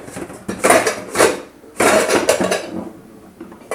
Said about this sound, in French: Donc nous prenons une grosse casserole comme vous pouvez le voir